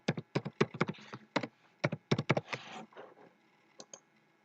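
Password typed on a computer keyboard, a quick close run of crisp key clicks in uneven bursts with short pauses, quiet and alone without any voice.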